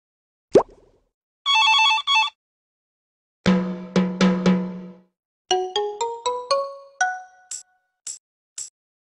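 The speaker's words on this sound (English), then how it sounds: "Maybe Dora's grandma called her. Listen to find the phone" A children's cartoon phone rings in a short burst of bright, chiming tones, set among other playful plops and rising boings that come one after another without any talking.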